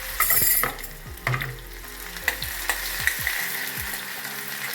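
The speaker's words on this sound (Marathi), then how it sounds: "आपलं तेल तापलेलं आहे मोहरी घालून घ्यायची आणि कांदा कट केलेला यात त्याच्यातून घ्यायचं" Mustard seeds and chopped onion frying in hot oil, a loud sizzle that settles down, broken by several sharp spatula knocks and scrapes against the pan.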